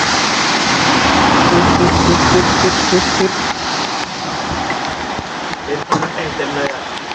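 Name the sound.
heavy rain during a motorcycle trip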